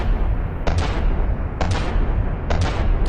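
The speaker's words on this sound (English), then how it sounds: "this is the previous rate of fire of the original Onyx Watch gun" The Onyx Watch anti-aircraft gun in From the Depths firing fragmentation shells, three evenly spaced bursts of rapid sharp shots over a constant heavy rumble.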